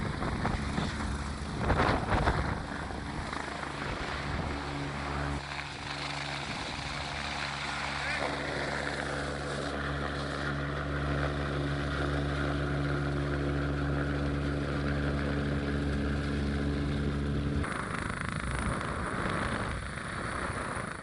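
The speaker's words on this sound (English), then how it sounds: "The patient getting hoisted up to the helicopter is ABC4 videographer Ed Willits." A rescue helicopter hovers during hoist training, its rotor and engine making a steady loud droning roar with sustained humming tones throughout, with voices partly under the noise.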